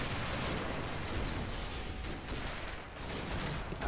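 Continuous dense rumble of gunfire in the Combat Mission wargame, with Vickers machine gun fire blending into a steady wash of shooting and distant blasts, fairly faint, with no speech.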